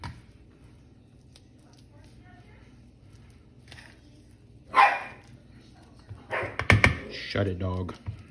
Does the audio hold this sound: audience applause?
no